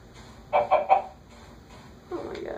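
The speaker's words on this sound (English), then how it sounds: "Oh my god, chicken." Minecraft chicken clucking: three quick clucks in a row, then a further cluck after a short pause, moderately loud over a faint background hum.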